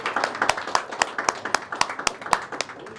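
An audience at a celebrity film screening claps in a steady, fairly even rhythm, individual claps clearly audible and moderately close.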